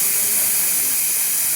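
A pressure cooker boiling dal for dal makhani vents steam in a steady, loud, close hiss that runs unbroken throughout, with no voices.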